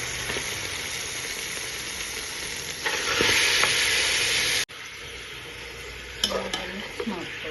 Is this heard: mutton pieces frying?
yes